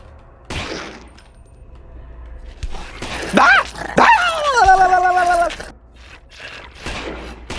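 A dog in the video game Lost in Vivo barks and yelps several times in a quick cluster, loud and close, surrounded by scattered clattering noises.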